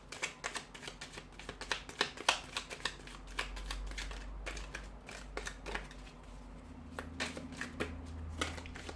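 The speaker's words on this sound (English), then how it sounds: "So we'll give the cards a shuffle" Tarot cards being shuffled by hand, close and quiet, with quick crisp riffling flicks and soft slaps in irregular bursts, heard alone with a faint low room hum beneath.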